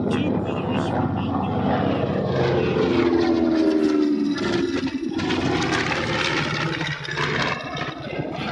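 A Skyraider propeller airplane flies past at an airshow, its steady loud engine drone filling the air for several seconds, with a crowd and a voice faintly underneath.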